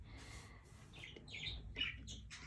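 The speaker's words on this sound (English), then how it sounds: "We transferred the parakeet already in their new cage." Parakeets in a new cage give faint, short chirps and tweets that grow busier toward the end, heard over a low background rumble.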